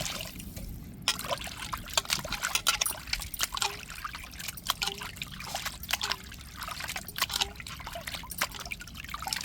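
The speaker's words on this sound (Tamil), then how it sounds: "இப்போ தண்ணியை ஊற்றி அலசி எடுத்துக்கிடுவோம்" Water is poured over masala-coated chicken to rinse it, giving a steady trickling, splashing stream that runs throughout, close and alone with no talk.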